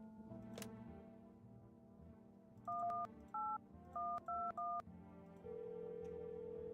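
Telephone keypad tones in a video game, a string of about six short two-tone dialing beeps in quick succession over a quiet background hum, then a steady tone follows.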